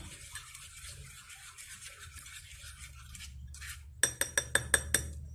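A utensil clinks against a bowl while French toast mixture is stirred, with soft scraping swirls giving way to about six sharp, evenly spaced taps near the end.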